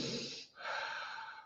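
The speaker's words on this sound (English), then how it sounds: "Normal breathing, you could say like a belly breathing is like this." A person demonstrating relaxed belly breathing driven by the diaphragm: a steady, close breathy airflow, a brief pause partway through, then another long, even breath.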